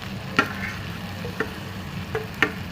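Potato drops into a hot pan and gets stirred for naan filling, a soft low sizzle broken by a few sharp clicks of a spoon against the pan, quiet and close, no one speaking.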